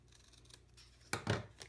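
Scissors trim a small scrap of black cardstock, giving a couple of quick, close, crisp snips near the end after a quiet stretch.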